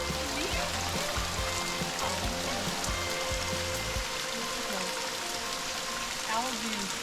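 Steady rain pattering through cold woods beside a rushing stream in the Arkansas wilderness, a continuous close wash of water noise throughout, with faint low voices briefly underneath early on.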